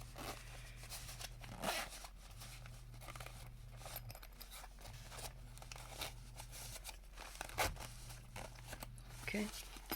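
A zipper pulled open on a soft case for a self-leveling laser level, a few short close rasping zips amid rustling and handling noise over a low steady hum.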